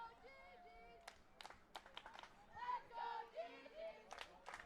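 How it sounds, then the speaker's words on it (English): A rugby match crowd late in the second half, with scattered claps, shouts and cheers from spectators mixed with voices nearby, rising in bursts from a moderate distance. "Get a little spirit from the crowd here."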